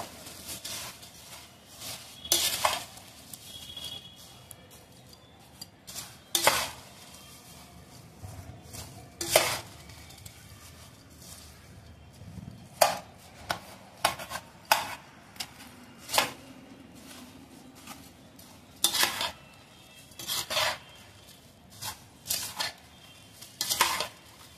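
Gilli bhel with raw mango is mixed in a bowl, a spoon scraping and clinking against the sides in irregular bursts of stirring with quiet pauses between, close up and without talk.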